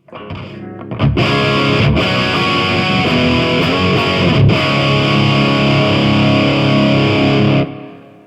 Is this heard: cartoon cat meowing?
no